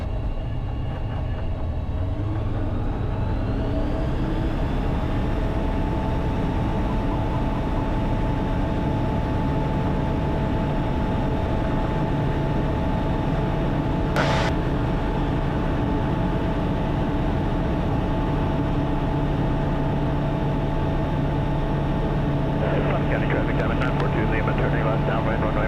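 A light aircraft's single piston engine roars steadily at full power during takeoff, recorded from inside the cockpit. The drone stays loud and constant throughout, and a short click is heard around the middle.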